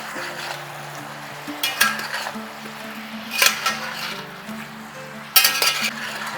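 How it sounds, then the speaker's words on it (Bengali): Chopped tomato goes into a pan of frying spices with salt, turmeric and red chili powder for a jackfruit curry. A soft sizzle is cut by three bursts of louder hissing and clinking utensils. "ঠিক এই সময়ে দিয়ে দেবো কুচি করে রাখা টমেটো"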